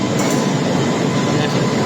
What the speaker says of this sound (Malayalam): ഗായ്സ് ട്രെയിൻ വന്നു.